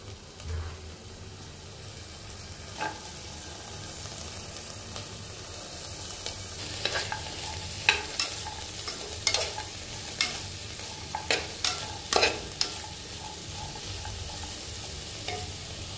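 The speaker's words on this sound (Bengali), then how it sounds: "এবার সবজিগুলোকে একটু ফ্রাই করে নেব।" Vegetables stir-fry with salt and turmeric in a pan under a steady low sizzle, while a utensil scrapes and taps in quick bursts that grow busier toward the end.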